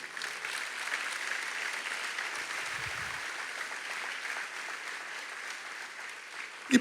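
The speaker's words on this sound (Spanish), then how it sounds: "Dale un aplauso a Jesús." A church congregation applauds during a sermon, a steady, even wash of many hands clapping that holds through the whole stretch, with no talk over it.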